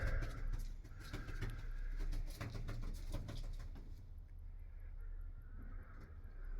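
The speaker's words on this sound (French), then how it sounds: "avec des pigeons qui volent la nuit." Pigeons cooing at night in the Sukhothai historical park area, soft repeated coos under a steady broadband hiss of night ambience, fairly faint and distant.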